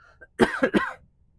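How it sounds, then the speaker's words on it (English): A person coughs in three quick harsh bursts after a brief throat sound, close and loud, followed by quiet. "Excuse my coughing."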